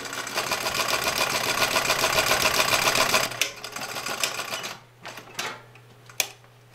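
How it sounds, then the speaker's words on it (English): A sewing machine runs steadily with a rapid, even stitching rattle for about three seconds, then stops, leaving a few short bursts and clicks. "This is Mike's sewing machine."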